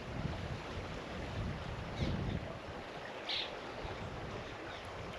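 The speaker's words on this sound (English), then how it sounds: "Box Elder Creek, flowing at the base of a cliff of the Madison." Box Elder Creek flowing at the foot of a Madison Limestone cliff, a steady broadband wash of running water under outdoor wind noise, with a couple of brief louder splashes.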